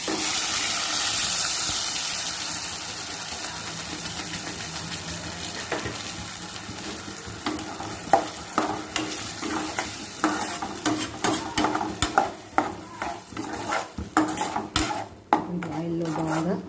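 Ground masala for stuffed brinjal curry frying in oil in a pan: a strong hiss that settles into a steady sizzle, then repeated rhythmic clanks and scrapes of a spoon stirring against the metal.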